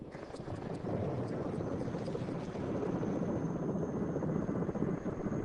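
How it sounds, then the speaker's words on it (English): Helicopter taking off in open country where Dinka herders live, a steady loud rotor and engine roar filling the whole stretch, dense low thumping beating constantly with a faint high whine above it. "As a helicopter took off for the Dinka"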